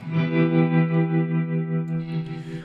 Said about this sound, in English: you will hear the tremolo much more. Because now the tremolo is after the reverb.